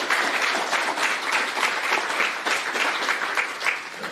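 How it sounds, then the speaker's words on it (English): Steady, dense applause from a business conference audience, many hands clapping together at an even level for several seconds without a break. "So if we can give a round of applause"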